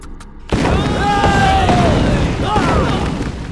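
Loud film explosion as a bomb disguised as a coconut blows up in a Hindi-dubbed action movie: a sudden heavy boom that swells into a sustained, roaring blast with ringing debris for several seconds.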